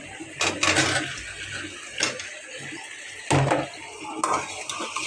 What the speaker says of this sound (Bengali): এখন আমি টমেটোগুলো দিয়ে দিচ্ছি আর শসাগুলো দিয়ে দিচ্ছি।